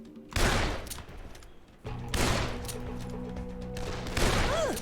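Gunfire in the zombie game Dead Island comes in three loud bursts of rapid shots, each volley crashing in and fading into ringing ambience between them, with a rising whine at the end.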